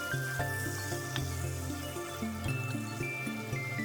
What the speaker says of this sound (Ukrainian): Підсмажуємо до золотистості.